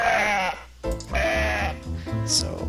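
Cartoonish sheep bleating from the Cool Herders video game on Nintendo DS, several loud wavering bleats in quick succession over a couple of seconds, alone without talk.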